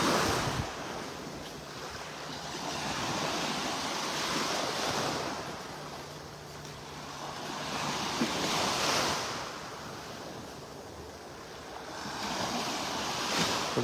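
Ocean waves wash onto a beach in North Naples, Florida, a steady broadband surf that swells and recedes in slow cycles, with wind buffeting the microphone throughout and no talking.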